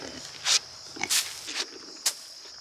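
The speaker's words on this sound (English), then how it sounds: "With our pigs here" Pigs on a farm give several short grunts and squeals spaced across a few seconds, moderately close and loud, with faint outdoor background.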